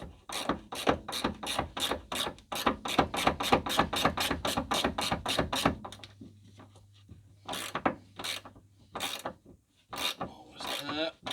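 A hand ratchet spins a bolt off the rear anti-roll bar drop link of a Ford C-Max, held with a T30 Torx, giving a fast run of close clicking bursts that slows and breaks into scattered clicks.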